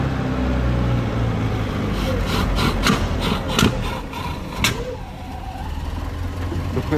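An International Scout 800 with a four-cylinder engine and four-speed gearbox idles steadily on its own, a close, continuous low mechanical rumble with a few sharp clicks and knocks over it.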